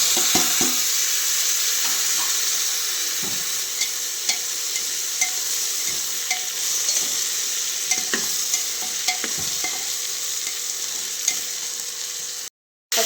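A pan of tempered rice being sautéed and stirred after tomatoes were added, with a continuous close sizzle broken by frequent spoon scrapes and clicks against the pan, uninterrupted by speech until a brief drop at the end.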